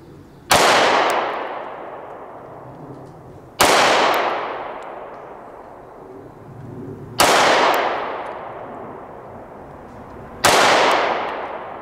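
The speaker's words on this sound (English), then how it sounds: "We're gonna shoot at that number 2 dot out there on these M3 strategy targets from Steven Pinot" Four sharp, loud pistol shots from an HK VP9 SK 9mm at an outdoor range, spaced about three seconds apart, each followed by a ringing echo that decays.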